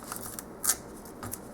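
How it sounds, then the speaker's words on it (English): Half-inch score tape being pulled and pressed along a chipboard edge for a Christmas mini album, soft papery rustles and a brief sharp tearing swish, close and alone without talking. "I will start putting score tape along the edge of this"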